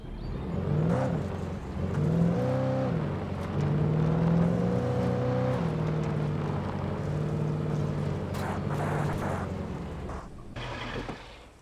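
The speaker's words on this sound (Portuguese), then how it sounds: "Esse não é o carro do Drive? Do jogo Drive? Até o barulho é igual." Car engine in Alan Wake Remastered revving up and down through several gear-like pitch rises, loud and close, settling to a steady hum before fading near the end.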